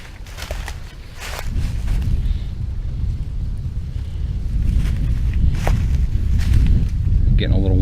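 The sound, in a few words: wind blowing into microphone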